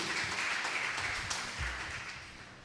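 Church congregation applauding at a Sunday sermon, a dense wash of clapping that gradually fades over a couple of seconds.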